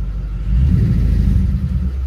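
A Lexus ISF V8 with its exhaust valves opened gives a short, deep rev that swells into a low, throbbing rumble and then settles back to idle. The sound is close and brief, with no talk over it.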